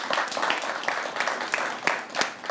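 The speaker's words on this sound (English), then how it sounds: "a big round of applause for you students." A studio audience breaks into applause for students, many hands clapping in a dense, continuous patter that holds steady for a few seconds.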